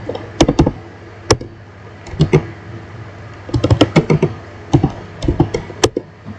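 Sharp keystrokes clatter on a computer keyboard while typing commands, coming in quick uneven bursts with short pauses between them, close and fairly loud.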